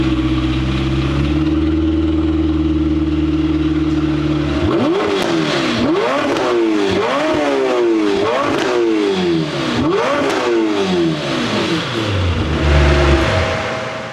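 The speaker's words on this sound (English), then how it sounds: "let's hear a stock startup and some revs" Stock Lamborghini Temerario twin-turbo V8 with factory exhaust idles steadily at close range, then takes a series of sharp rev blips that rise and fall about five times before settling back to idle.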